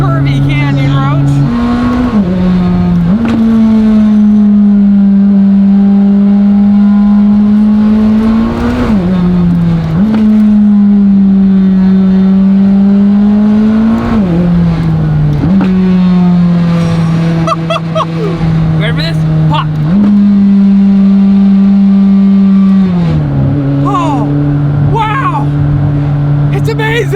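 A McLaren 600LT sports car engine drones loud and close while driving on curvy canyon roads, its pitch climbing and dropping with repeated revs and gear changes, someone talking over the cabin noise.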